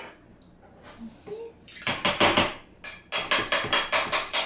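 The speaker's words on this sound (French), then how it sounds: "On commence par piler nos patates." Boiled potatoes being mashed in a pot with a masher, a series of loud, rhythmic wet thumps and clanks near the mic, coming in two bursts after a quiet start.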